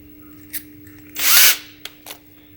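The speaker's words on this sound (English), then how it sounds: "Then you're going to take your 1/8 inch drill bit," A power drill with a 1/8 inch bit bores a hole into a grill side shelf, one loud whirring burst of about half a second set among a few small clicks and taps.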